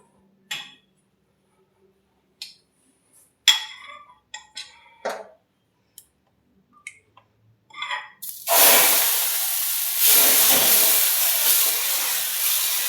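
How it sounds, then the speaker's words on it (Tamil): Dosa batter made from a homemade millet mix hits a hot iron griddle and bursts into a loud, sustained steamy sizzle and hiss, preceded by a few scattered clinks and taps of utensils. "இப்போ தோசை ஊற்றி பார்க்கலாம்."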